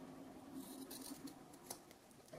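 Scissors snip through fabric for a children's bunny backpack, several quick close cuts with crisp blade clicks, faint and with no talk.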